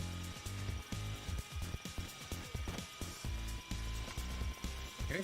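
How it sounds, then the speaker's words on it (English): A drill grinds away in the video game Payday: The Heist on PS3, a rhythmic mechanical whirring and rattling that pulses in repeated bursts for several seconds. "Just wait for the drill to finish"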